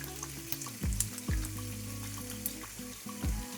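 Whole peeled garlic and dried Guntur chillies frying in oil for raw mango thokku, a steady broad sizzle with a few louder clinks and bumps from a spoon or pan, and some tonal hum running under it.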